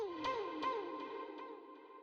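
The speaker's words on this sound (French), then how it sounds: "Je suis venu lui rajouter un chemin en cliquant sur son bouton jaune ici. Et je le relie à la reverb qu'on vient de rajouter." Ping-pong delay fed into reverb on rap backing vocals, a sung or vocal tone repeating in echoes that bounce and fade into a wet reverberant tail, with no talking over it.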